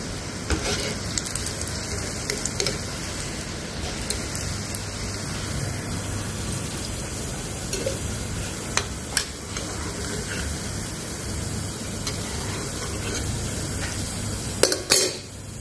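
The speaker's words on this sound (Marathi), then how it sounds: "या पद्धतीने आपण सगळ्या शंकरपाळ्या तळून घेऊ." Shankarpali sweets deep-frying in hot oil, a steady dense sizzle and crackle that runs continuously, with occasional clinks of a utensil against the pan near the end.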